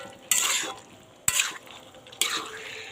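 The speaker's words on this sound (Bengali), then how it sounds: "তো এই দেখুন এটাকে ভালো করে নাড়িয়ে চাড়িয়ে দেবো" Curry with ghee and sugar is stirred in a pan, three distinct scraping strokes of a utensil against the metal over a faint, steady sizzle.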